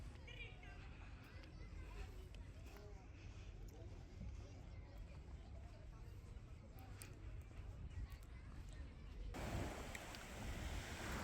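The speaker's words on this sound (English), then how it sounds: "you can definitely hear the waves" Steady wash of North Sea surf rolling onto a Dutch beach, broad and continuous, with wind noise buffeting the microphone and a louder surge near the end.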